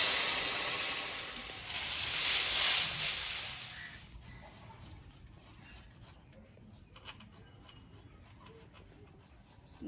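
Water poured into a pan of frying fish curry sets off a loud burst of sizzling and steaming. The hiss fades over a few seconds into a quiet background.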